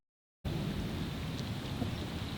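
Thunder from a storm directly overhead on a wet night, a continuous low rumbling roar mixed with steady rain hiss that starts abruptly and holds at a constant loud level.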